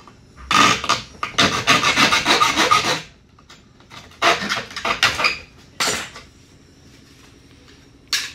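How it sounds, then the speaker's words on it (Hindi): Electrical wiring conduit end being cut by hand, rasping saw-like strokes in rapid bursts close up, with pauses between passes and a final short scrape. "दूसरे सिरे को हम काट लेंगे"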